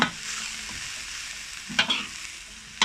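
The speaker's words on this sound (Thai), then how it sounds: "ก็คั่วไปให้มันแบบรู้สึกหอมๆครับ" Silkworm pupae are stir-roasted in a pan over low heat, giving a faint, steady dry sizzle broken by a few sharp scraping stirs near the end.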